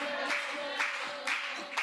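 A church congregation clapping in rhythm, four distinct bursts of claps about half a second apart, over a sustained tone of singing or music.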